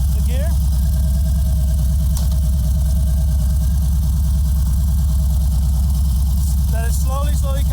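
A Harley-Davidson motorcycle engine runs steadily at idle, a loud, even low rumble with a fast pulsing beat throughout, close by, with brief voices near the end.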